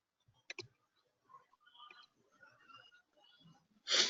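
A computer mouse clicks while SAP software is in use: a sharp double click near the start, then faint scattered ticks, and a louder burst right at the end.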